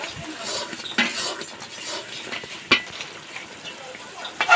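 Whole green chillies hit hot mutton curry masala in a pan and sizzle softly, with a few sharp clinks of a utensil against the pot and light stirring scrapes.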